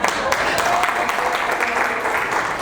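An audience at a lecture claps for the speaker, a dense, even wash of applause with crowd murmur that holds steady and fairly loud for a couple of seconds.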